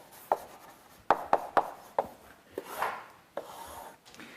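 Chalk taps and scratches on a blackboard in a quiet room, with about eight short, sharp strokes spaced irregularly as a graph is sketched.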